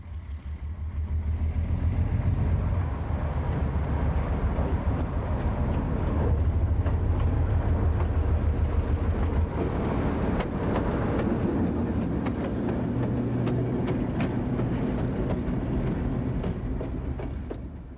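ALCO RSD-5 diesel locomotive rumbling along toward the engine house, a loud, close, steady engine drone with low throbbing and occasional rattles that fades slightly at the end.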